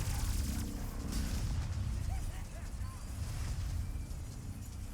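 Deep rumbling booms and explosive blasts from a video game roll continuously beneath a voice, with a few faint whistling tones drifting overhead, dense and loud throughout.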